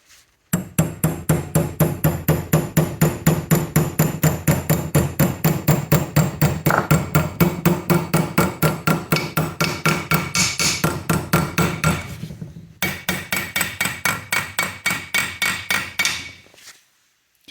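A hammer taps rapidly and steadily on a metal lock tab against an engine casting during a Maestro van 2-litre turbo engine swap, dozens of sharp, ringing close strikes in a regular rhythm, with one short pause partway through.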